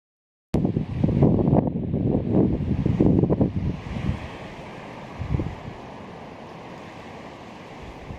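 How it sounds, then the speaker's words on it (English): Wind gusts hit the microphone on a mountain trail in Shenandoah National Park, a loud rumbling buffet that starts abruptly, then eases into a steady softer rush of breeze, with no talking. "Breezy up here."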